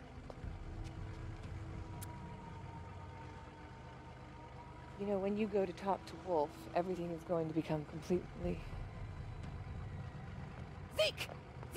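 Boat engines drone steadily on the water in Infamous 2, a low rumble running throughout beneath someone talking.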